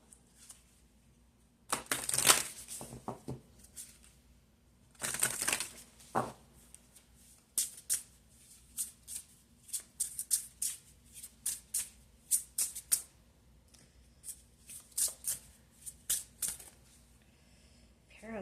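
Tarot cards are shuffled in bursts of riffling and snapping, loud near flurries separated by brief pauses, with soft quieter handling between; no one speaks.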